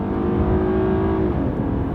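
A Hyundai car engine drones steadily as it accelerates with tires spinning, a tonal hum holding then dropping slightly in pitch, loud and close with road roar underneath.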